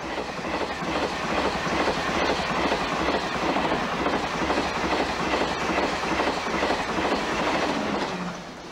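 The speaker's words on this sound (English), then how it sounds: "The train that used to cross the channel meets the train that now goes under the channel." A train crossing the English Channel rolls steadily along the rails, a loud continuous rumble carrying a rhythmic clickety-clack from the wheels over the joints, fading slightly at the end.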